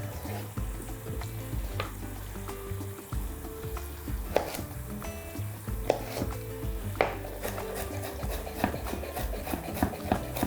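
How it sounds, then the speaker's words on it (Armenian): A knife chops a carrot into small cubes on a cutting board for vegetable pilaf, producing steady rhythmic taps and scraping knocks, close and fairly quiet, with a few sharper strikes standing out. "Գազարը կկտրատեմ մանր խորանարդիկների։"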